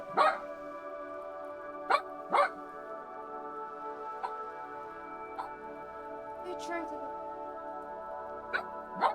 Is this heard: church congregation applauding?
no